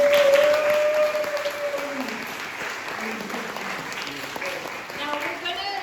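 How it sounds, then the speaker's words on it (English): An audience at an undergraduate social sciences introduction session breaks into sustained applause, a dense clatter of clapping that fades slightly over several seconds while a voice speaks briefly at the start. "let's give everyone a round of applause."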